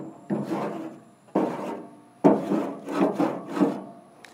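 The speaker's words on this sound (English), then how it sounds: "that's where my scraper comes in, and I can scrape the top first, get all that hard stuff off" A metal scraper scraping hard residue off the bottom grate of a pellet grill, heard as five close, loud rasping strokes with short pauses between them.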